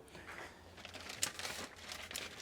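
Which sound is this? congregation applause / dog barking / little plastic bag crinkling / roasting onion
little plastic bag crinkling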